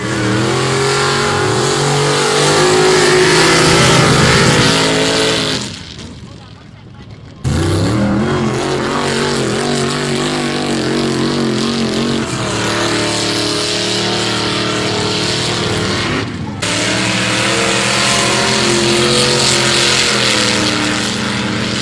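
Loud, sustained engine roar from a mud drag racing truck with a 440 stroked to 493 rated at 600 horsepower, revving hard for several seconds, briefly cutting off, then roaring back up to full throttle and holding, with a short dip near the end.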